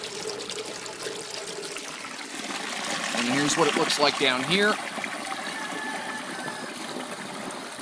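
An aquaponics bell siphon drains with a trickling, gurgling flow that swells into loud bubbly glugs as air is drawn in, then settles back to a steady trickle while someone talks over the start.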